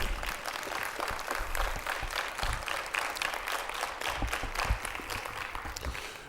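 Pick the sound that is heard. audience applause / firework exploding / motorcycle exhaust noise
audience applause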